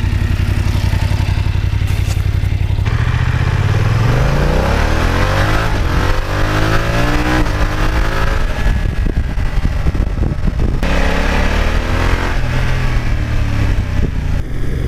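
A loud BMW F900XR motorcycle engine revving and accelerating while riding, pitch rising and falling through gear changes, with steady wind rush throughout.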